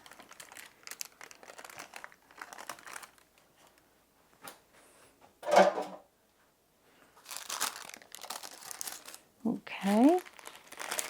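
Parchment paper crinkles in short, sharp bursts as a warm zucchini bread loaf is lifted out of its pan, close and clear, with quiet talk in between.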